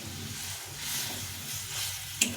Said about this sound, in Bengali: এখন আমি এই জলটা দিয়ে দেবো এই জলটা ফুটিয়ে রেখেছিলাম